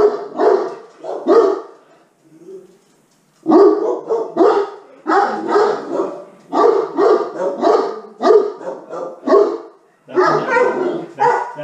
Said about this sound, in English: You don't get to be in here when you bark.